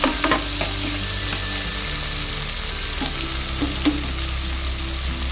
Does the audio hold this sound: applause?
no